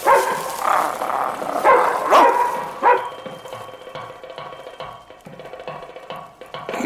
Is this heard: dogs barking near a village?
yes